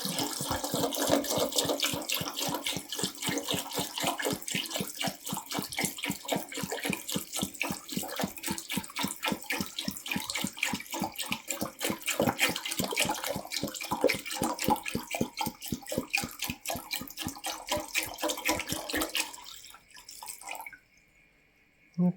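Water pouring steadily into the tank of a 10-litre VEVOR ultrasonic cleaner, a continuous loud splashing stream with rapid bubbling pulses that runs about twenty seconds before cutting off abruptly.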